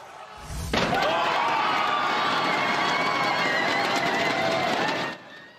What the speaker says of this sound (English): Fans gathered there to cheer on their superstar, Shohei Ohtani.